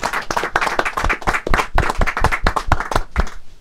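A close audience claps for the singer after her performance, a dense run of sharp, loud hand claps with an uneven rhythm that carries on without a break.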